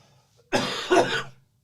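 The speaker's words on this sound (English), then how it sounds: "Coughing." A single close cough with throat clearing during a podcast chat, a short harsh burst in two pulses after a quiet moment, then silence.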